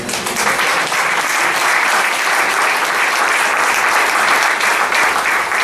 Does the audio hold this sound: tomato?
no